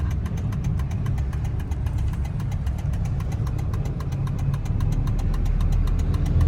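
A Kubota DC70 combine harvester's diesel engine runs close by, a steady rumbling idle with fast rhythmic knocking pulses that swells slightly toward the end, without talk.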